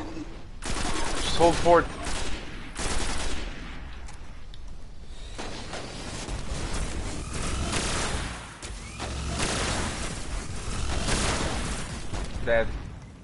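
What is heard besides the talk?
gun firing in Destiny video game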